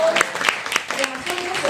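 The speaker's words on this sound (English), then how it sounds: "Applause to really acknowledge this man for your generosity and your contribution to us all" Audience applause at a stem cell event in Singapore, a short burst of scattered clapping with a voice talking over it.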